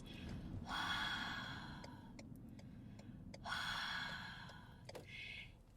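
A voice imitates heavy breathing: two long, loud, rasping breaths, each drawn out for a couple of seconds, followed by a shorter puff at the end.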